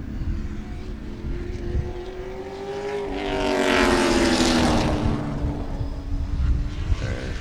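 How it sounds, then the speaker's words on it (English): Loud race car in a big-bore race at Sebring circuit roaring past, the engine note rising to a peak and falling away as it passes, with a steady background hum. "that car is just extremely loud"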